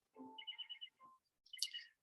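Birds sing in a few brief, faint chirps and trills with short pauses between them, in an otherwise quiet space.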